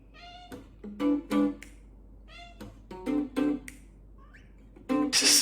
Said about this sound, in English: We love Blue's cat, dude